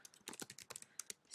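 Quick, uneven keystrokes clatter on a computer keyboard, close and fairly quiet, a short burst of separate clicks with a louder tap at the end.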